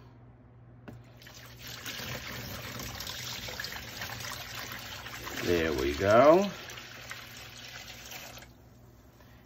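Water pours into a soaking tub used for treating a comic book, a steady trickle building to a louder gurgling splash near the end before stopping, with a brief spoken remark over it.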